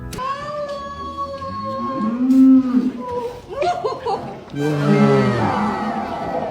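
A large sacrificial cow bought for Eid al-Adha gives two loud, drawn-out moos close by, separated by a short pause with some background voices.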